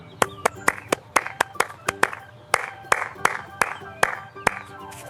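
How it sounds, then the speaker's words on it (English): Hands clap in a steady, evenly spaced rhythm, about a dozen sharp, close claps in a children's English phrase lesson about music and rhythm, with faint background sound between them. "Clap your hands."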